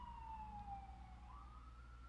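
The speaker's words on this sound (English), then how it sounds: "We'll let the siren pass us." An ambulance siren wails in the distance, a single falling tone that sweeps back up as it goes by, faint but clear over low traffic rumble.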